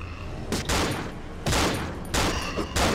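Gunfire in the Cry of Fear video game: four loud, sharp shots spaced roughly a second apart, each with a short ringing tail, with no talking over them.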